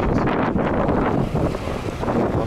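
Light, cool wind blowing by the sea, buffeting the microphone in loud gusty rumbles over a faint wash of waves.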